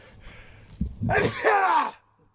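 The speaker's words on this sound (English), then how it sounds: "I think I'm gonna sneeze." A single sharp sneeze, preceded by a short sharp intake of breath, close and fairly loud.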